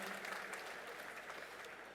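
An audience at the EICMA 2017 motorcycle show press conference applauds: a short, fairly faint but steady spread of many hands clapping.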